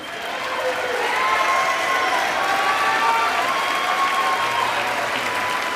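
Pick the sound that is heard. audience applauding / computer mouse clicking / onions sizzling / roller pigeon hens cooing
audience applauding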